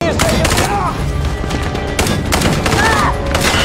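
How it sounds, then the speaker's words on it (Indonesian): Rapid bursts of gunfire crack repeatedly amid a loud, chaotic scene with shouting voices and ricochet-like whines. "Anak buah Braxton menembak petugas itu dan Nafabi terlihat terkena tembakan juga di kaki kakinya"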